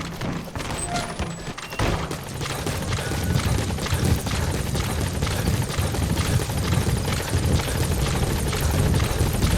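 A support helicopter arrives at a landing zone in Metal Gear Solid V: The Phantom Pain, its rotor a loud, steady, close chopping roar that holds throughout.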